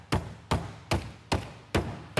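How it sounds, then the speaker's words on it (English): Five evenly spaced heavy thumps of a meat mallet crushing cookies or crackers into crumbly pieces, close and solid, each with a short crunchy decay. "I'm using a meat mallet."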